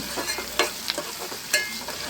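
Ginger paste frying in a pan for an omelette curry, a soft continuous sizzle broken by a few sharp scraping stirs of a spoon against the pan, with no voices.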